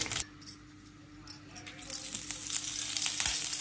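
Cumin and bay leaf sizzle in hot oil for a spinach and green gram curry, a steady close frying hiss that builds louder over a few seconds, with faint metallic clinks over it.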